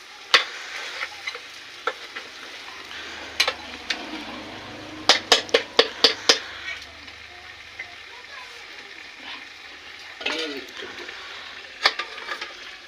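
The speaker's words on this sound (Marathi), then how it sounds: "खरडून फिरवा चांगलं त्याला. बटाटे नका फोडू." Paya biryani masala with potatoes being stirred in a pan, with soft frying sizzle under a series of sharp metallic spoon scrapes and taps, a quick cluster midway, close by, with someone speaking at times.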